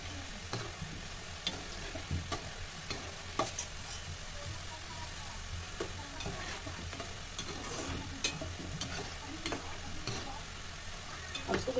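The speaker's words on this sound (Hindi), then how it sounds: "अब इसको गुलाबी होने तक भूनेंगे" Namak pare, crisp salty flour snacks, frying in oil over low flame, a soft steady sizzle with scattered light stirring clicks and scrapes, fairly faint throughout.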